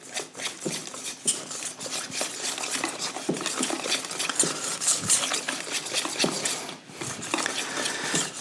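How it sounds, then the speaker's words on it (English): Cornmeal corn dog batter stirred in a bowl, a steady close scraping and clinking of utensil against the bowl with gritty, grainy texture, continuous and fairly soft with no talking. "So I'm gonna give this a mix."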